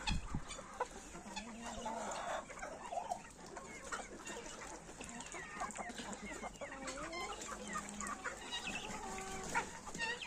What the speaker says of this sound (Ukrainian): такі молоденькі красунькі качечки і ось такий красунчик